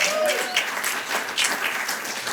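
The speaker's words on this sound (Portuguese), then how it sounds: "Uma salva de palmas para o nosso pastor Mário Rui Boto, que está aqui hoje connosco." An audience at a Hillsong Portugal church podcast recording applauds the pastor, with steady, fairly close clapping from a modest crowd running throughout.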